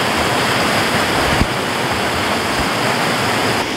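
A waterfall roars in a steady, dense, unbroken rush of falling water, loud and close, reached on a truck camping trip, with no voices.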